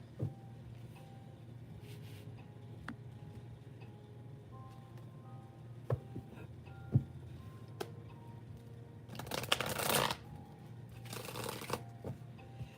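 Tarot cards are shuffled quietly in a calm room, with a soft riffling flutter building into two brief, louder bursts near the end. Scattered light ticks and taps come before them.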